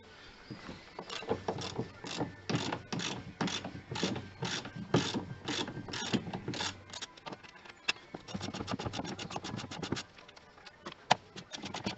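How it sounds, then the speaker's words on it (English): A ratchet wrench with a 21mm socket loosens a suspension damper bolt on a Mercedes SL R230, giving runs of rapid, close clicks with brief pauses between strokes. "21mm socket on the end of this damper."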